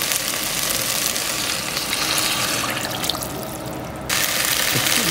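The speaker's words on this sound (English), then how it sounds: "I'm going to add the water." Water pours into a pot of frying curry vegetables, a continuous close rushing splash that briefly thins and then returns at full strength.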